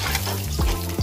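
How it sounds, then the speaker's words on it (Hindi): Boiled potatoes frying in ghee for potato halwa, crackling with a steady close sizzle while a utensil stirs and scrapes the pan in a few rhythmic strokes. "अब इसे भूंजेंगी।"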